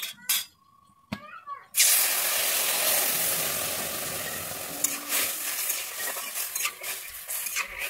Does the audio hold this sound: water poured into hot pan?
yes